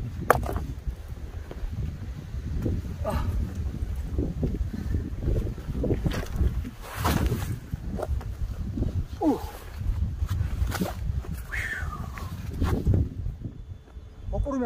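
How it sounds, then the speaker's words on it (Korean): Strong gusty wind roars across Unjangsan mountain in fog during a bivouac, heavy low buffeting that swells and drops continuously, with a voice heard briefly amid the gusts. "바람이 아주 세게 불어가지고"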